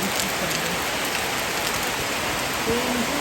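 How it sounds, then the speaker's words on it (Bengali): Heavy rain pouring down behind a house where water has pooled, a dense, constant hiss with scattered close drips, steady and fairly loud, no voices. "একবারে ঝমঝম করে বৃষ্টি হচ্ছে"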